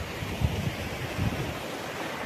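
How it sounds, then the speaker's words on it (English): A river on a farm where Dorper sheep, goats and coffee are raised, used by neighbours for fetching water, rushes past as a continuous broadband wash with slight swells, close and fairly loud, with no talking. "That is the river."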